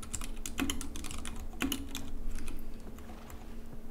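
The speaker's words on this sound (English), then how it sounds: "Stop typing. I'm getting annoyed." Fast, irregular clicking of keys on a computer keyboard continues steadily throughout, close by and at moderate volume, with no voices over it.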